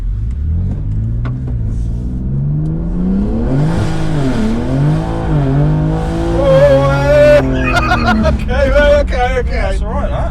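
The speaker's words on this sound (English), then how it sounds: "So that's fifth gear wheel spin." Stage 2 BMW G80 M3 tuned to about 720 horsepower spinning its rear wheels in fifth gear, the engine droning and rising in pitch up close with a tire squeal near the end, people talking over it.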